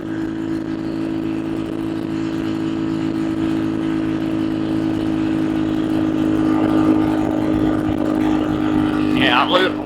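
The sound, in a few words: RC car engine running uphill, RPS Racer with Nibbi PE26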